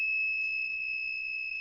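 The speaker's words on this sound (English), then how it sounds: "the buzzer will be on" A buzzer on an ESP32 board sounds when an RFID card is scanned: a steady, piercing electronic tone held continuously and close, with no talk.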